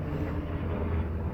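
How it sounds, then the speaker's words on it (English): An airplane passes overhead as a steady, broad, low rumble that fills the short stretch without a clear rise or fall. It sounds fairly loud and continuous, with no voices over it. "a plane just flew overhead"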